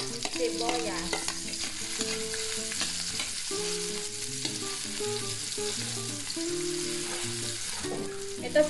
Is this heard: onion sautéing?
yes